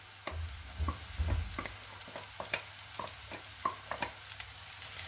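Green chillies and other spices fry and get stirred in a pan for a chicken dish, soft sizzling broken by repeated light scrapes and taps of a spoon at a steady, quiet pace.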